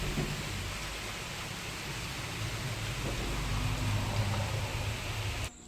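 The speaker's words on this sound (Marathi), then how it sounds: "पाऊस असा आलेला आहे" Steady monsoon rain in the Konkan countryside hisses evenly, a dense wash of falling water with a faint low rumble underneath, cutting off abruptly at the end.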